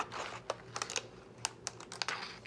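Scissors cut around a paper self-portrait, making quiet, close, irregular snips and crisp paper clicks in a short sequence.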